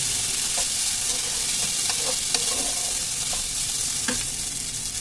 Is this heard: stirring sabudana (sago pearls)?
yes